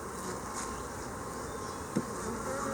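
Honey bees buzz continuously on a hive frame, a close, soft droning hum with one brief knock partway through and no speech.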